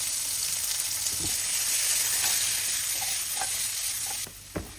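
Carrot and onion fry in clarified butter, a steady close sizzle with soft stirring scrapes, holding constant before easing slightly near the end with a couple of brief clinks.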